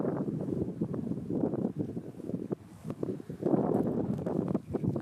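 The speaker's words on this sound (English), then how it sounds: "Every time I try to record, it starts getting windy" Blustery wind rumbling against the microphone in heavy, uneven gusts that swell and drop without pause.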